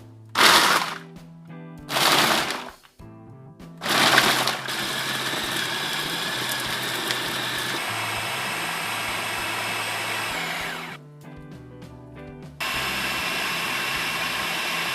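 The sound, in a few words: food processor chopping ice cream ingredients on pulse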